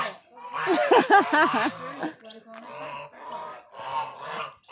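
Geese kept among ducks on a mixed poultry farm honk as they are herded, starting with a loud burst of repeated nasal honks, then quieter scattered calls while someone talks nearby.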